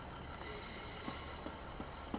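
Class 15 locomotive in Train Simulator rounding a curve at a platform, with a steady rail rumble and faint, sustained high wheel flange squeal, plus a few soft clicks from the wheels.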